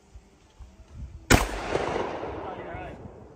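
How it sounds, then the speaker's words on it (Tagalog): A single shotgun blast at an outdoor camping spot, a sharp loud report followed by a rolling echo and noisy outdoor background, with faint voices nearby. "First time ko pumutok ng shotgun."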